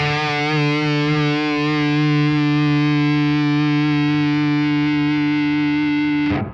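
An electric guitar runs through a Joyo Audio Avallon compressor pedal into an amp, ringing out one loud, distorted, harmonically rich chord that sustains evenly for about six seconds before stopping sharply, with no voices.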